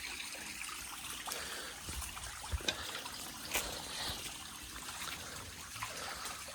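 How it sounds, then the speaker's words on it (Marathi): Water trickling out of the ground at a mountain spring, a faint continuous dribble with a few small splashes, no talk. "बघ बाहेर पाणी येत आहे"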